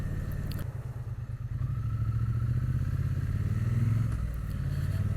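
Triumph Bonneville T100 Gold Line motorcycle riding along, a steady low engine drone with a rumbling pulse and a brief rise in revs, heard close and alone under wind rush.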